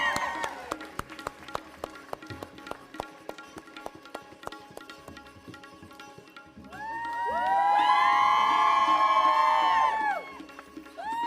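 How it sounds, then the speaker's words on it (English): Wedding ceremony guests clap in a steady crisp patter that swells into loud cheering and shouting from a crowd, sustained for several seconds. "a big round of applause once again for fera number 4"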